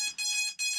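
A HobbyKing V2 C130 Coast Guard scheme RC plane emits a high electronic double beep as its battery is plugged in; two short, clear tones sound close and fairly quiet, with a brief gap between them.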